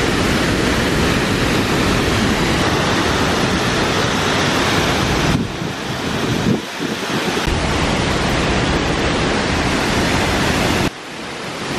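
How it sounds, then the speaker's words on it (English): Waterfall at night in Bali, heard from its base: a loud, unbroken roar of rushing, crashing water with wind buffeting the microphone, dipping briefly in places. "So we're here at the bottom of the waterfall."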